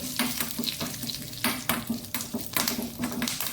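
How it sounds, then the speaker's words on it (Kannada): Urad dal, cumin and curry leaves frying in hot oil, a steady bright sizzle with repeated scrapes and stirs of a spoon against the pan, close and fairly loud. "ಇದನ್ನು ಉದ್ದಿನ ಬೇಳೆ ಸ್ವಲ್ಪ ಕಲರ್ ಚೇಂಜ್ವರೆಗೆ ಚೂರು ಹುರಿಕೊಳ್ಳೋಣ"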